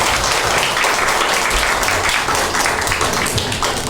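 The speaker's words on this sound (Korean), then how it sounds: "우리 목사님 오실 때 이번에 함께 한번 환영의 박수 한번 해주시겠습니다" A church congregation claps to welcome a pastor at an end-of-semester joint worship service, a loud, dense burst of applause sustained evenly throughout.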